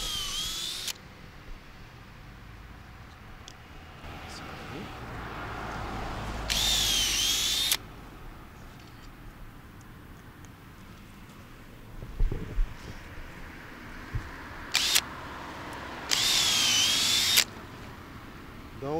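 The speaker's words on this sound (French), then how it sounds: "au fur et à mesure que je perce, je mets mes embouts pour pas perdre mes trous dans le fond" A power drill bores holes into a tree trunk, whining in three short high-pitched bursts spaced apart, with handling knocks and low background noise in between.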